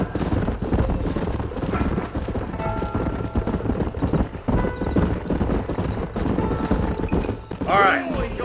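Horses' hooves clip-clopping in the video game Red Dead Redemption, a steady rhythmic trotting beat under background talk and game sounds, ending with a short whinny near the close.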